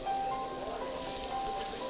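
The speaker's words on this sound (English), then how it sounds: "can see it sizzling there" Steady, bright sizzling of chopped onion frying in hot oil, continuous and close, with a faint hum underneath.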